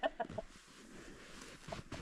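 A hen at a remote Alaskan homestead gives a few short, fairly quiet clucks, a quick cluster at the start and another pair near the end, with soft background noise between.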